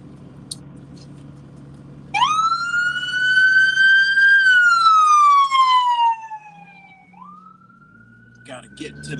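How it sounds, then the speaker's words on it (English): An ambulance siren wails loudly nearby, a long rising and falling tone that fades as it passes, over low traffic rumble. "We'll let this ambulance through."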